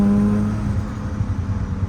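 A Mazda FC RX7 cruising with a new transmission mount fitted, its engine drone steady and fairly loud from inside the cabin, with a low rumble that dips slightly midway as if easing off for a gear shift; no talking.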